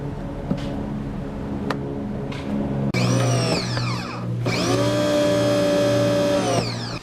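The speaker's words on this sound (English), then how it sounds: "I'm going to turn on the motor" A GreenWorks GPW1600 electric pressure washer motor starts up, whining loudly and close, cutting out briefly and then running again in a steady high-pitched drone.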